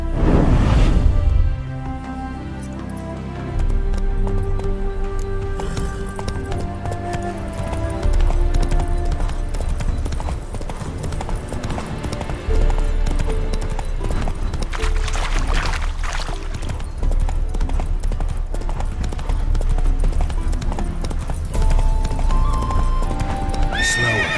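Steady clip-clop of hooves at a brisk gait, with a horse whinnying over a constant musical backdrop, in The Witcher 3: Hearts of Stone.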